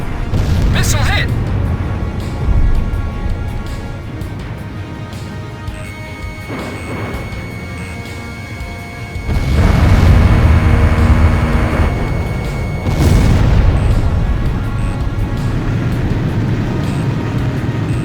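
Missile strike on an enemy aircraft in Ace Combat 5: The Unsung War, a sudden loud crash and boom swelling over jet engine roar, then a second burst shortly after, with a voice talking over the game.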